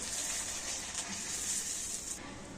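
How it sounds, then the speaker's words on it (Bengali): A continuous bright hiss of rice papads frying in hot oil, steady and fairly loud, with no voices. "আর একইভাবে আমি সমস্ত পাঁপড়গুলো ভেজে নেব।"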